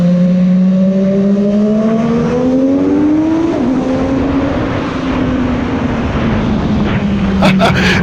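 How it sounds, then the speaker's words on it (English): A motorbike engine roars inside a tunnel, loud and near throughout, its pitch climbing steadily through a gear and then shifting, with reverberant, echoing tone all the way. "The sound of this bike in a tunnel."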